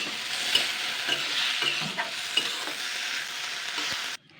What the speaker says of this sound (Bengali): এবার আমি সেদ্ধ করা আলু দিয়ে দিচ্ছি। এটাকে আমি একটুখানি হালকা নাড়াচাড়া করে নেব।